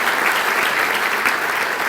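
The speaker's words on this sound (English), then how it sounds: "Let's give a round of applause for them." Brief burst of steady applause from an audience at a touchdown club meeting, dense clapping throughout with no talk.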